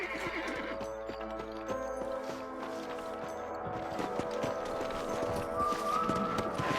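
Horses gallop with rapid drumming hoofbeats and whinny loudly in the video game Red Dead Redemption, over a swelling orchestral score that grows fuller toward the end.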